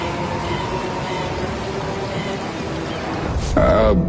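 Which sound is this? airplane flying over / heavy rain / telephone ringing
heavy rain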